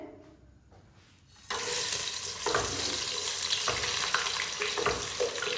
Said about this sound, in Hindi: तो अब कीमे का बघार शुरू कर रहे हैं।